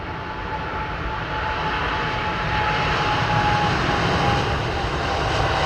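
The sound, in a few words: airplane arriving at London Heathrow Airport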